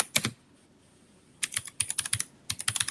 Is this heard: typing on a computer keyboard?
yes